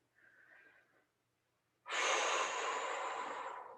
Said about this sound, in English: 2 long, deep, sweet breaths here.